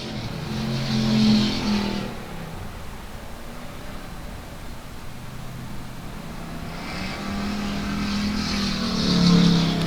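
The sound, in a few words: race cars on the backstretch at South Texas Speedway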